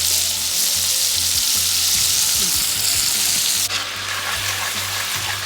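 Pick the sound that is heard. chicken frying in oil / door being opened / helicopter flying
chicken frying in oil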